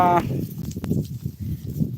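A goat gives a short, near bleat at the start, followed by the shuffling and low noises of animals close by.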